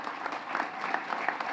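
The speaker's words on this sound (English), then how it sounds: "why is he getting a round of applause?" An audience applauding Donald Trump, heard as a brief, steady wash of many hands clapping from a moderate distance.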